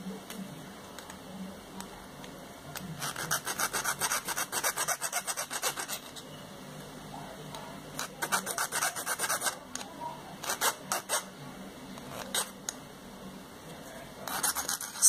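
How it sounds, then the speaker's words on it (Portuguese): A metal file rasps against the tip of a nail, shaping it into a V. Several bursts of rhythmic back-and-forth strokes come close and clear, separated by short pauses. "E nós vamos limar do outro lado. Para formar um biquinho embaixo. Vamos fazer um V na parte de baixo do prego."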